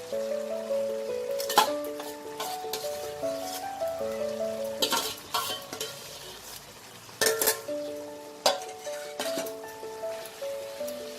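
Fried onion being stirred into boiled potatoes in a pan for aloo posto, with scraping and clanking spoon strokes at irregular intervals over soft background music and no talking.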